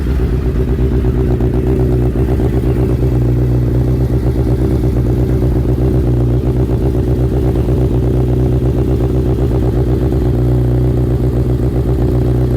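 Suzuki Hayabusa with straight-through exhausts idling near 1700 rpm, a loud, deep, steady pulsing rumble close to the microphone, unbroken for the whole stretch with no voices.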